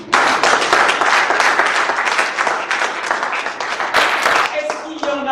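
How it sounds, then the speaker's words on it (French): An audience at an entrepreneurship workshop applauds for itself after finishing an exercise, with dense, steady clapping that fills the room for several seconds and tapers off as a few voices come through at the end. "Vous pouvez applaudir pour vous."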